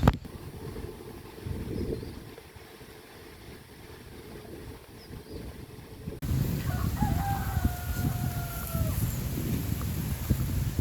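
Rooster crowing at a small chicken farm: a few drawn-out calls ring out mid-distance in the second half, over a low rustling farmyard background, with no talking.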